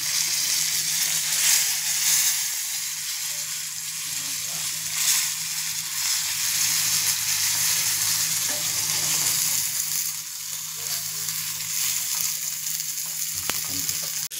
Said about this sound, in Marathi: पापलेट भरलेला भाजला आहे मित्रांनो